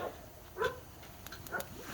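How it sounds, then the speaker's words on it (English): Dogs barking outdoors in the distance during wintry woodland work near a fire, a few faint, scattered barks over quiet ambient noise. "sure you can hear the dogs"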